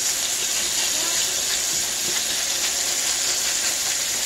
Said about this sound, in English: You hear that good sear?